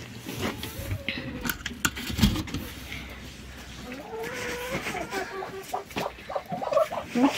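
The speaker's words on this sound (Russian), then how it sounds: "Вот одна курочка уже сидит." Chickens cluck and murmur softly nearby in a straw-bedded coop, in irregular bursts, with faint rustling in the background.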